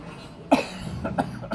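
Three separate coughs, one sharp loud cough followed by two quieter ones spaced apart, close to the microphone.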